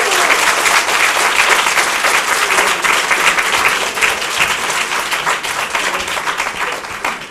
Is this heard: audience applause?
yes